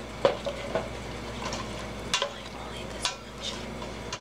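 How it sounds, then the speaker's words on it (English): Onions, mushrooms and garlic with added broth are stirred in a pot for beef stew: soft scraping and a few light clinks of the spoon over a low simmering sizzle. "we're going to stir it a little bit, get all the bottoms off"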